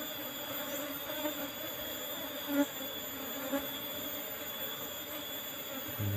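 Asian honey bees (Apis cerana) hum in a steady, continuous drone while their hive is being smoked during a honey harvest, a dense, even buzz with a couple of brief louder bumps close by.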